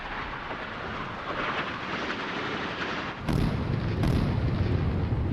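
Fuel tanks blowing up in the naval combat game Sea Power, heard as a dense, steady roar of rumbling blasts that swells louder partway through, with two sharp hissing bursts layered on top.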